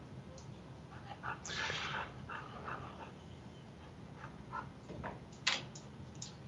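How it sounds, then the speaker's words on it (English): A dog barks in short scattered bursts, a few sharp yaps mixed with whimpers over a faint background hum, and a louder bark near the end. "Of course, the dogs want to harass me now. Go away, dog."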